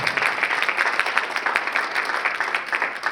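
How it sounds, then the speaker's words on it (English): A summit audience gives another round of applause for the speakers at the end of a women's event on aging, sustained crowd clapping with a lively, slightly uneven rhythm, loud and close. "Can we get another round of applause for our speakers, please?"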